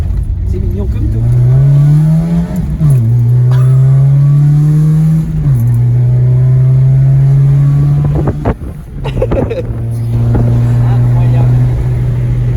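A Renault Super 5 GTS on a test drive, its engine loud and close, revving through rising gear pulls with a shift dip, plus wind noise and brief talk inside the car.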